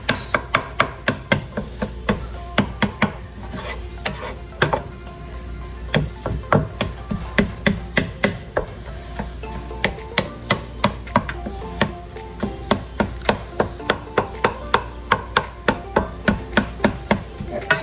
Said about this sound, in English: this is why you use the spatula, because it'll help you chop up your eggs